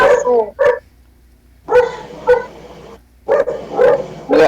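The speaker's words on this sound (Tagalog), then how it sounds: "Ingay ng aso." A dog barks in short bursts, a couple of quick yips, then a pause and a few more barks, loud and close.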